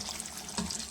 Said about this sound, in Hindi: तो अब मैं इसके अंदर गर्म पानी जो है वो ऐड करूँगी